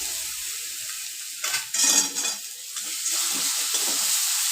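Mustard-poppy seed paste with green chilli and salt frying in mustard oil alongside ginger for a potato and bitter gourd curry, a steady close sizzle with spoon stirring and scraping swelling in the middle, no talking.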